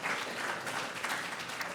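An audience at a fire department appreciation event claps in sustained, even applause, a dense crowd sound that fills the moment without pauses or voices.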